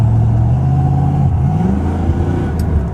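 A car with a Flowmaster aftermarket exhaust revs in a deep, loud, close rumble that climbs in pitch partway through, with no voices.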